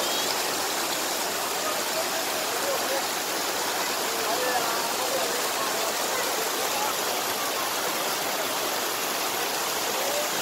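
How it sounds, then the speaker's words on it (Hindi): A steady, dense roar of falling water, loud and continuous throughout, with no breaks or other sounds standing out. "देखिए खूबसूरत झरना"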